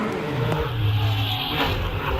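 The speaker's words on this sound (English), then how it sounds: "The engine sounds terrific. Wow, 6-cylinder, turbocharged, leaves the line." A turbocharged six-cylinder Porsche rally car pulls away from the start line of a night hillclimb, its engine a loud, steady roar that rises as it accelerates with no voices over it.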